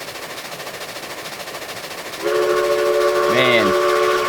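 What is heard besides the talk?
locomotive whistle in Railroads Online video game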